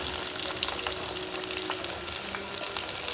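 Beef liver with green peppers sizzles steadily in a hot pan while being stirred, a close, continuous crackling fry with scraping touches and no talking.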